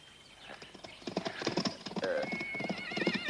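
Horses trot along in a western film scene, hooves clip-clopping in a quick, uneven rhythm that grows louder and nearer, with a horse whinnying over the hoofbeats.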